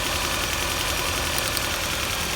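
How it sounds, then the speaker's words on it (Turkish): A car engine idling rough and shaky with one spark plug pulled, a steady close-up rumble with uneven knocking vibration and no talk. "Gördüğünüz gibi motor böyle bir sallantılı çalışıyor"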